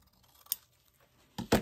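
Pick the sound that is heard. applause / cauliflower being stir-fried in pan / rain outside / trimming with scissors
trimming with scissors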